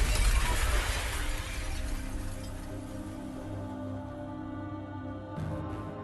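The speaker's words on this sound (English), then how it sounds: "The sound of glass breaking." Glass shatters loudly at the start, a sharp crash that decays into a long, fading ringing tail over quiet background tones, with no talk.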